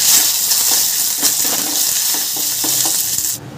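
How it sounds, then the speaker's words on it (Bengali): Dried red chillies and mustard seeds sizzle and crackle in hot oil, a loud, steady frying hiss with scattered pops, close up, ending abruptly. "তেলটা গরম হয়ে গেছে, এর মধ্যে আমি দুটো শুকনো লঙ্কা আর সর্ষে ফোড়ন দিয়ে দিচ্ছি"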